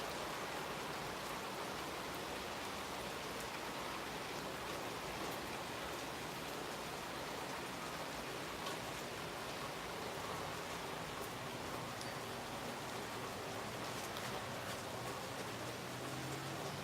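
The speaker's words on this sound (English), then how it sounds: "My car's getting a car wash." Steady rain falls on a patio and a parked car, a dense, even hiss of drops that holds constant throughout with no voices.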